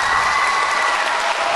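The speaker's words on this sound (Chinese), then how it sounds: "请掌声鼓励。" Brief burst of audience applause, dense and loud, many hands clapping evenly throughout.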